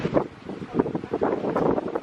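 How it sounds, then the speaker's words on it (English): Gusty wind buffets the microphone in rumbling bursts outdoors in Ireland, rising and falling over a couple of seconds. "Got a little windy."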